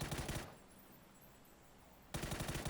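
Rapid automatic gunfire rattles in a first-person shooter game, sounding as two loud, close bursts of fast repeating shots with a quieter gap between them.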